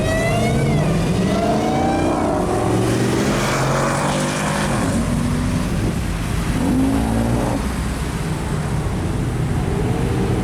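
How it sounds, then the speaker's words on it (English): A classic car sits at a traffic light during the Woodward Dream Cruise, its engine roaring loudly and continuously up close as it revs and rumbles. "Classic car stuck at the traffic light."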